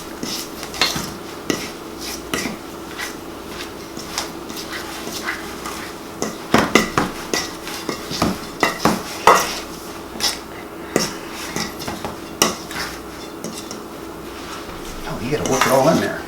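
Biscuit dough with coconut being worked and mashed with flour in a bowl, heard as repeated knocks and clatters of utensil against bowl in an uneven rhythm, getting busier toward the end.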